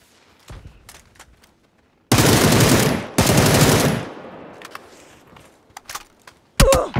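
Loud bursts of automatic gunfire in a shooter video game, two long rattling volleys close by, followed by scattered single shots and another short burst, with quiet stretches between.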